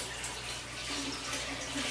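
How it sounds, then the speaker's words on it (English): Rinse water gushes steadily from a Thetford Porta Potti Curve waste tank, a continuous close splashing rush of liquid with no talk over it. "I'm just going to dump it again."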